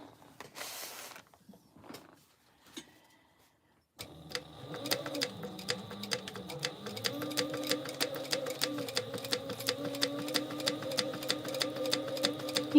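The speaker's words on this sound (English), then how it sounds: "now we're just going to do a stay stitch or a basting stitch all the way around" After a few seconds of faint handling noises, a sewing machine runs a stay stitch around a tote bag panel, a quick steady mechanical chatter of rapid regular needle strokes continuing to the end, close and moderately loud; no talking.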